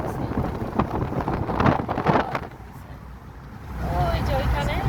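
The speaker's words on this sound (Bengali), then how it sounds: "প্রচুর বাতাস আসতেছে।" Strong wind buffets a car crossing the Jamuna bridge, a loud rushing roar with road rumble throughout, rising and falling in gusts, while people talk over it.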